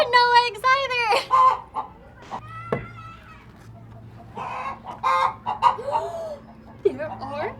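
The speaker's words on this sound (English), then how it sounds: "There's a really big chicken in here" A big farmyard chicken clucks loudly and close in repeated bursts with a few squawks, amid other farm animal sounds, and someone talks between the calls.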